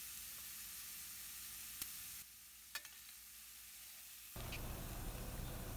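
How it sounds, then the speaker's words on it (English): Carrots being stirred in a pan with other curry ingredients give a steady, moderate sizzle and frying hiss, with a couple of brief utensil clinks and the sizzle growing louder near the end; no one speaks. "Add all carrot to the pan. Spread the carrot evenly and then mix it very well with all the ingredients."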